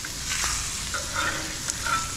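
Salmon fillets fry on a hot Blackstone flat-top griddle, giving a steady close sizzle and hiss with faint crackles, heard alone.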